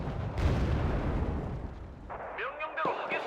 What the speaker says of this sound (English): there's actually some artillery up here somewhere